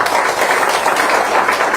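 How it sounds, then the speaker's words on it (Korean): Audience applause for two guests at a ministers' meeting, a dense steady patter of many hands clapping together at fairly close range, loud and sustained throughout with no talking. "두 분께 먼저 박수 한번 좀 부탁드릴까요?"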